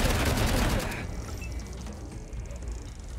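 A burst of rapid gunfire in Wasteland 3 fills the opening second, then trails into scattered fainter shots under a busy background.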